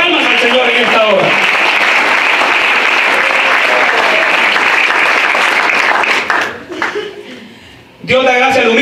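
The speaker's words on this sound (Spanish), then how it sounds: "Denos de palmas al Señor en esta hora." A church congregation claps hands in sustained, loud applause during a Spanish-language sermon, with voices mixed in, dropping briefly before the clapping surges again near the end.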